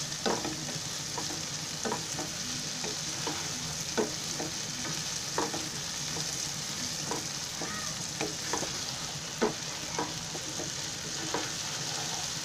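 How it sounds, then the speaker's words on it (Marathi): Potato bhaji with tomatoes sizzles steadily in a pan while a spatula stirs it nonstop, giving a rhythmic run of scraping taps over an even frying hiss, close and moderately quiet. "हे सारखं हलवत राहायला लागतो ना"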